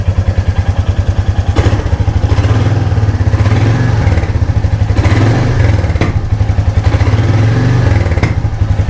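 A Royal Enfield Meteor 350 motorcycle thumps loudly up close with a rapid, even single-cylinder exhaust beat, its note swelling as it is revved several times and then settling back.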